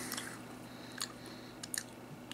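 Close, crunchy chewing of malt ball candies, chocolate-coated malt globes, with a few sharp crunches standing out against a quiet steady background hum.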